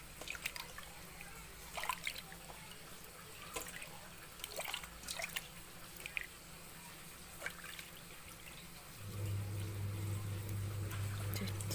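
Milkfish is washed in water after deboning, with soft splashes and scattered drips over a steady trickle that grows into a fuller running flow near the end.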